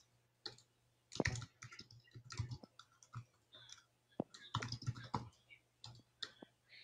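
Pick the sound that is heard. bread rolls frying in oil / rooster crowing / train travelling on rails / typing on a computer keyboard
typing on a computer keyboard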